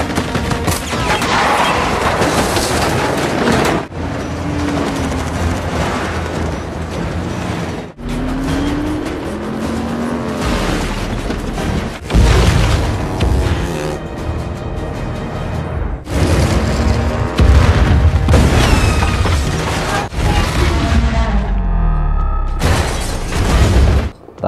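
Landmine explosions in an action film sequence, a string of loud booming blasts and bursts every few seconds over a racing car engine, dense and chaotic, with no talking.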